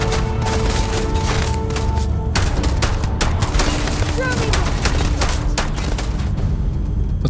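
Pistol gunfire in Starfield crackles as a dense, loud run of quick shots and impacts with steady combat noise underneath, and a voice talks over the exchange.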